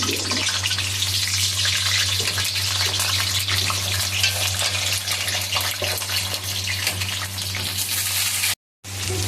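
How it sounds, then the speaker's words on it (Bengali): Potatoes frying in hot mustard oil in a kadai while being stirred, giving a loud, steady dense sizzle with scraping stir noises throughout and a brief cut of silence near the end. "আলুগুলোকে তেলের মধ্যে দিয়ে দিয়েছি, আর এই আলুগুলোকে ভালো করে নাড়াচাড়া করে ভেজে নিতে হবে।"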